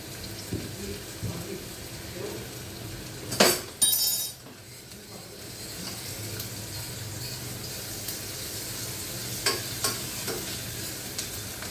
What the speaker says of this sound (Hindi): प्याज डाल के इसको मैं थोड़ा सौटे करूँगी